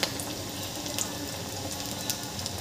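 Mixed dal vadas, a crispy Vidarbha festive snack, deep fry in hot oil with a steady, moderately quiet sizzle and hiss and small crackles popping through.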